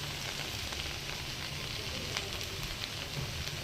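Okra frying in a pan, stirred after turmeric and chili powder are added, gives a steady close sizzle and crackle with faint scraping throughout, no voices.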